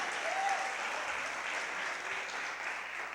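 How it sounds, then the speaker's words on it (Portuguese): A church congregation applauds at a worship service, steady dense clapping filling the whole stretch at even loudness with no pause. "dê um aplauso forte ao Senhor"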